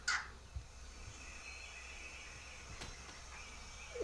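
A wild turkey hen calls on the opening day of youth turkey season, a few short, fairly distant yelps against quiet outdoor background, with a sharper call near the start and another at the end.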